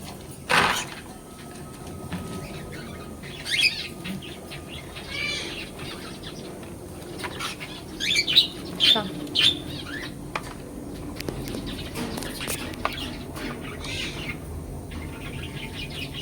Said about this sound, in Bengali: সব পাখিগুলো ছোলা খেতে ভীষণ ভালোবাসে।